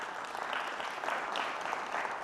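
An audience at a talk on art, technology and the climate crisis claps to vote in an optimist-pessimist show of hands, producing a moderate, even patter of many hands for a couple of seconds with no talking.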